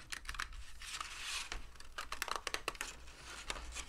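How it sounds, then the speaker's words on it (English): Scissors snip through a thin sheet of ash wood veneer during a Fender maple guitar neck finish repair, making close, papery crinkling and cutting sounds in a steady run of short bursts, with no talking. "I'm going to cut out the ash veneer"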